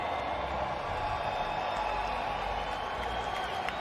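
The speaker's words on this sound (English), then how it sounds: "I need you guys to make some noise right here, right now." A large esports arena crowd at the Fortnite World Cup cheers and applauds steadily, a broad sustained roar filling the space with no individual voices standing out.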